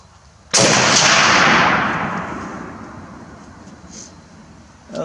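A single loud Czech Vz 54 sniper rifle shot firing Lapua rounds cracks sharply and close, followed by a long rolling echo that fades over several seconds outdoors.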